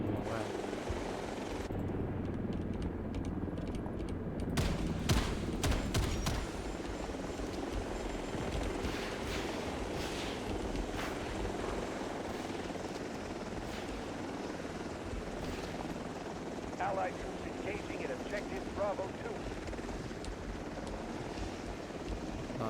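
Continuous droning engine and rotor noise from an aircraft in the Delta Force shooter, steady and loud for the whole stretch, with a few sharp clicks and brief tonal chirps over it and a person talking at times.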